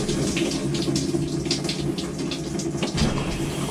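A Maytag washing machine's water valve fills the drum during manual test mode, giving a steady, continuous rush of running water with a low hum beneath, close and even throughout with no talking.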